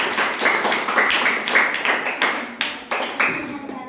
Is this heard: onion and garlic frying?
no